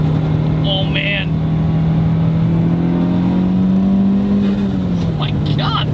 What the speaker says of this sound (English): you get that very satisfying turbo flutter every time you let off the gas